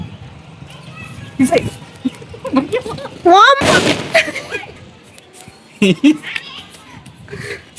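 A sharp loud bang from a firecracker bomb bursts out midway, preceded by a whistling rise, amid excited voices and chatter before and after.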